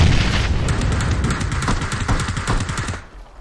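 Heavy gunfire and explosive booms from the battle royale game PUBG, a loud dense barrage of rapid shots and blasts that fades slightly near the end.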